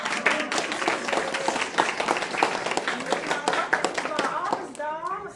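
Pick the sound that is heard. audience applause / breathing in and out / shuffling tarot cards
audience applause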